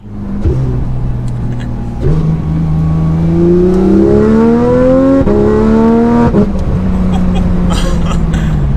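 A Porsche 911 GT3 RS engine revs loud and close, climbing in pitch through several short-shifted gear changes as it accelerates hard.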